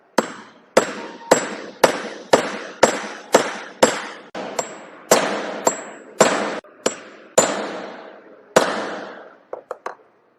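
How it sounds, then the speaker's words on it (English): Hammer striking a chisel on metal during fitting work, about fifteen sharp ringing blows at a steady pace, loud and close, ending in a few quicker lighter taps. "Hold straight the chisel. Go for, use the hammer."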